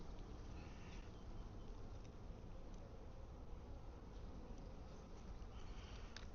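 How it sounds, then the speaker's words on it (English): Dense, steady buzzing of a large colony of honeybees around an open hive during a queen-release check, a continuous near hum with no talk. "There's a lot of bees in this hive."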